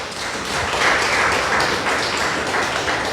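A church congregation gives a loud, sustained round of applause for the Lord, a dense steady wash of many hands clapping together throughout.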